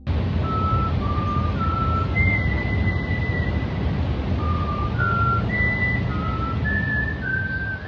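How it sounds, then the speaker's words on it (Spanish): A whistled melody, the Feeding Gambit of the Strangers from an analog horror tape about forest dangers: a slow sequence of clear sustained whistle notes stepping up and down, heard over a constant low rumbling background. "Se menciona la existencia de una distintiva melodía conocida como Feeding Gambit, empleada por los Strangers al silbar para los visitantes."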